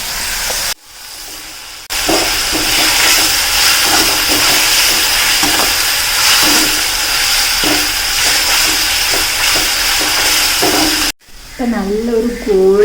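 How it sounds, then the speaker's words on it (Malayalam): Sliced onions fry in a mix of oil and ghee for biryani, giving a steady broadband sizzle that runs nearly the whole time, broken by a brief dip early on and a short voice near the end. "ഇപ്പം നമ്മുടെ സവാള ഇങ്ങനെ വറുത്തുകൊണ്ടിരിക്കുകയാണ്"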